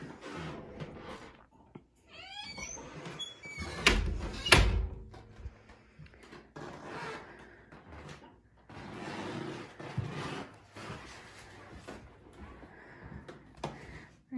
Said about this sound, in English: Behind the double doors here is a nice size